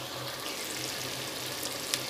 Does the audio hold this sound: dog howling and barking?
no